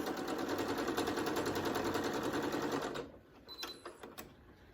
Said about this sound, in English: we're going to sew it on a 1/4 inch seam allowance